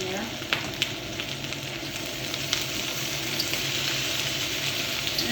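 Broccoli and parboiled carrots sizzle and hiss steadily in a hot stir-fry pan with leftover T-bone steak, a dense continuous frying crackle with a few brief sharper pops, close and alone.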